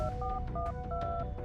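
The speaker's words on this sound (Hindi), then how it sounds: "उसने सुबह उठते ही सबसे पहले देवेन को फोन मिलाया" Telephone keypad dialing tones as an audio drama sound effect: a quick series of short, clear dual-pitch beeps in a steady rhythm, close and alone.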